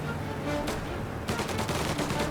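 Rapid bursts of gunfire from the video game Mafia: Definitive Edition crackle amid dense background noise, with a quick volley of shots near the end.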